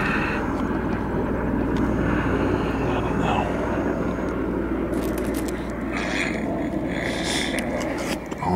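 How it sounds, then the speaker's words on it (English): Helicopter flying overhead at night in Maryland, a steady droning rotor and engine rumble throughout, moderately distant, with faint background noise and brief clatter toward the end. "there's a helicopter. You can see the helicopter and hear that"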